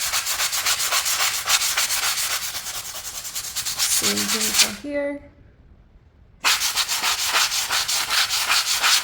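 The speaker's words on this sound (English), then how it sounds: "that would require very minimal light sanding" Light hand sanding of a resealed surface during a home renovation: steady, close scratchy rubbing strokes that pause while someone speaks briefly, then resume.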